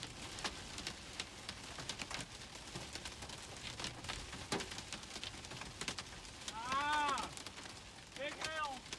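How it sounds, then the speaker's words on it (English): Big hailstones pelting down during a tornado storm, a dense rapid clatter of sharp impacts over rushing noise, with faint muffled voices and brief chirping tones near the end. "Sounds like he's getting hit by some big hailstones as well."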